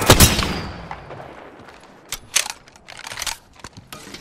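Gunfire in Apex Legends, a loud burst at the start fading into a tail, then scattered sharp shots and short bursts at moderate distance, with no talking.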